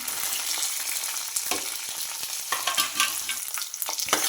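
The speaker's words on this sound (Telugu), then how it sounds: "కరివేపాకు కూడా వేగింది కదా ఇప్పుడైతే ఆనియన్స్ వేసుకుంటున్నాను" Onions frying with curry leaves in a hot pan for a ridge gourd curry: a steady, dense sizzle with occasional louder crackles and stirring scrapes, fairly close, no voices.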